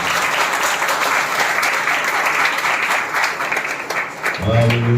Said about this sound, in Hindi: ऑलरेडी अगर अच्छा लगा तो जोर से तालियां बजाइए बेटा।